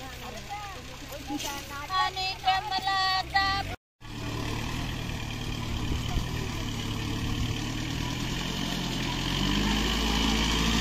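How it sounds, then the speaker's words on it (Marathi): A tractor engine runs in a muddy paddy field during rice planting in the Konkan region, giving a steady, low, continuous drone. It comes in after a brief stretch of voices and singing. "चिखल फायनली झाले ट्रॅक्टर आता आम्ही या तरवेमध्ये बाहेर काढलाय"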